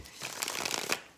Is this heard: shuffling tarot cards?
yes